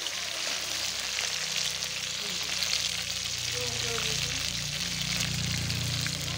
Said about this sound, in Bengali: মশলাটা লাল লাল করে ভেজে নিচ্ছি